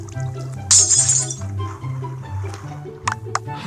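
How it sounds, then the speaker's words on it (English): Glass breaks in the Minecraft video game with a bright shattering burst over steady background game music, followed later by a couple of shorter clinking breaks. "Remember, you can break glass."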